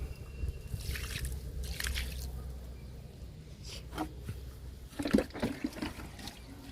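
Cooling liquid poured onto a hibiscus plant in a garden, with soft splashes, drips and squishy wet sounds coming in uneven bursts, close and low in level.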